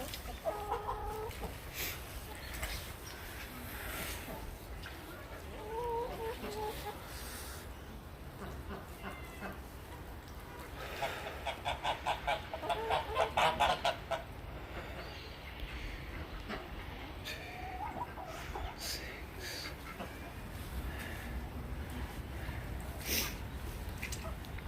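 Ducks in a rain-soaked backyard give scattered, faint quacks and honking calls over a steady low background hiss, with a short cluster of louder calls midway.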